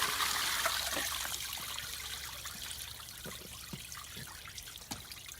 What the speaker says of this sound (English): We can put more water and flush it